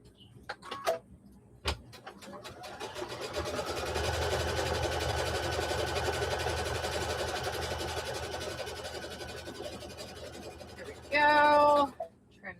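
A sewing machine stitches across a quilt block, running steadily for several seconds with a dense mechanical whir, preceded by a few handling clicks and followed by a short, louder burst at the end.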